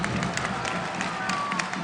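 Crowd at a Minnesota vs. Ohio State women's volleyball match roars and cheers around a jump serve, a dense sustained arena noise with scattered claps, brief and loud.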